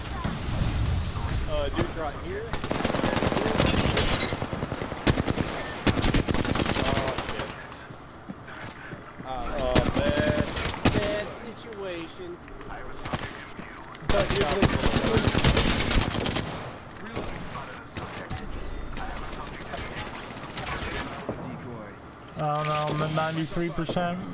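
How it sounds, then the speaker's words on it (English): Bursts of gunfire from a rooftop in an Xbox shooter game, recurring in loud clusters across the stretch, mixed with game effects and players talking over the action. "Someone's getting shot at from the roof."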